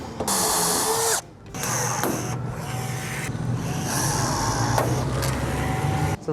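A power drill boring holes through the steel door of a shipping container, a loud continuous whine that stops briefly and resumes with shifting pitch as the bit bites into the metal.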